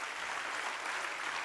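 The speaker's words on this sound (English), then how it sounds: "Can we give a big round of applause to all our speakers" Conference audience applause at CHI Innovate 2023, a steady dense wash of clapping filling the whole moment with no talk over it.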